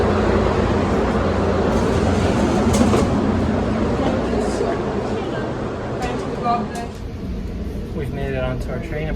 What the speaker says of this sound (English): Our train today will be made up of the classic Metra gallery cars.